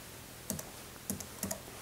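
An Apple keyboard is typed on while being paired with a Mac mini: three separate, crisp key clicks spaced about half a second apart, close and quiet against a faint background hiss.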